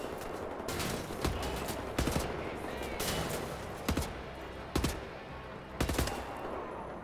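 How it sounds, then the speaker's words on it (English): A gunfire shootout in Wolfenstein: The New Order brings a chaotic, continuous spray of weapon fire, with several sharper, louder shots standing out at irregular intervals over the din. "It's a good old Mexican shootout."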